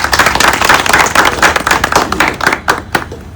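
Dense applause from a gathered crowd clapping in welcome at a community meeting, many hands striking quickly and continuously, close and loud, tapering off into a few scattered claps toward the end.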